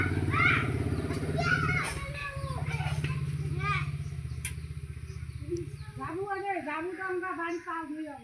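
A KTM Duke 390 motorcycle idles or rolls by nearby with a low, pulsing engine rumble in the opening seconds, fading under children's voices and chatter in a village.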